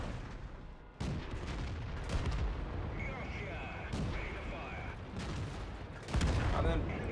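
Cromwell tank cannon fire in World of Tanks: several loud booming shots at intervals across a busy battle mix, with a heavy blast near the end, under ongoing game noise.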